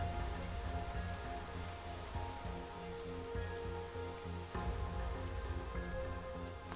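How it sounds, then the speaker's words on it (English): Rain in the video game Space Engineers, a steady patter of drops striking a surface, with occasional sharper taps and a faint low rumble, no voices. "Oh god, this rain."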